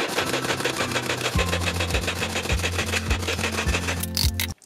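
A Nicer Dicer Chef electric food chopper whirs loudly up close, its spinning blades giving a steady buzzing motor drone with rhythmic low thumps about every half second. It cuts off abruptly near the end.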